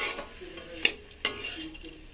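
Vegetables fry with ginger paste in a pan under a soft, close sizzle, broken by two sharp scrapes of a spoon stirring against the metal.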